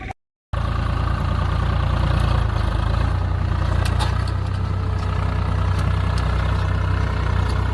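A tractor engine runs at a steady idle after a brief silent gap at the start, a loud, low continuous rumble with faint higher clatter on top and no talk.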